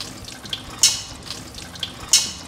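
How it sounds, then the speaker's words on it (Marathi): Steamed sago is rinsed under a cold tap: water splashes and patters close by in two short, repeating bursts, with no voices. "हे गरम पाण्याने वाफवून झाल्यावर परत थंड पाण्याने धुवायचं याला"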